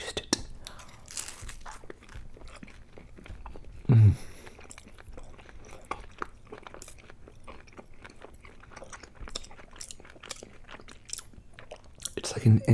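Close, crunchy eating of an Indian curry pizza with a thin, crispy crust and garlicky spinach pesto topping, steady bites and chewing with crackly crust sounds running throughout, two louder bursts near the start and end.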